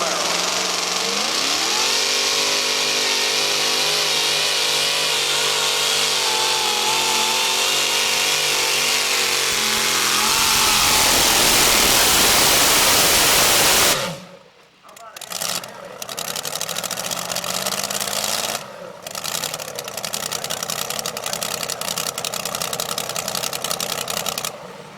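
A blown Big Rock Chevrolet pulling tractor engine roars loudly and continuously at high revs at a truck and tractor pull, then cuts out briefly and comes back in rough, sputtering blasts.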